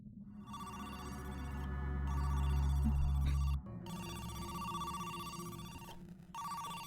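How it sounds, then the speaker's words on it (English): A telephone rings inside a video game, a steady electronic ring repeating in bursts over a low droning hum, clear and fairly loud with no talking. "Maybe he will react to the phone call."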